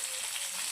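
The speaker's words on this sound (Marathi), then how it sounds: "ज्यात आपण फिश फ्राय करून घेतली होती त्याचमध्ये मी आता भाजीला फोडणी देते" Hot oil sizzles steadily in a kadhai that was used to fry fish, tempering vegetables in a Malvani-style surmai fish curry, a soft, continuous crackle with no voices.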